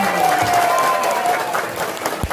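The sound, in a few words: children applauding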